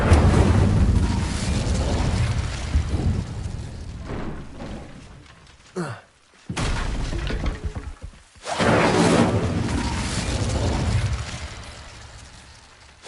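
Incendio fire spell cast in Hogwarts Legacy, heavy whooshing bursts and booming flames that swell, cut out briefly to near silence, then surge back loud and fade, with no talk.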